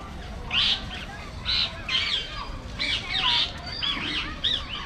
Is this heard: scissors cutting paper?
no